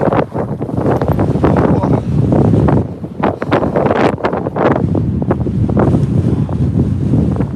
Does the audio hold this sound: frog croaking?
no